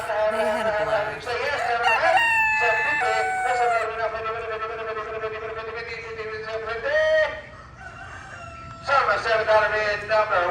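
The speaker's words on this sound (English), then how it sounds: "This was the crow in this little group of silkies." A silkie rooster crows in long, wavering calls among a small group of silkie chickens at a poultry auction, with the bird close and loud and crowd noise and talk running underneath.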